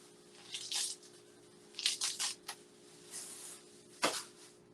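Fresh cilantro rinsed under running tap water in a home kitchen sink, heard as short splashy bursts of water and wet leafy squishing that come and go, with quiet gaps between them.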